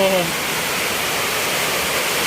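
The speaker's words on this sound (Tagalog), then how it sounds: "Ayan, papasok na yung tubig sa bahay namin." Floodwater pours into a house during heavy rain, a steady loud broadband rush of water that runs the whole time, with a brief voice at the very start.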